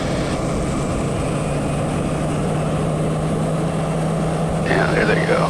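A Piper M600 turboprop runs up to takeoff power in the cockpit, its steady droning engine and propeller hum loud and continuous with a constant low tone, a short warbling cockpit tone near the end.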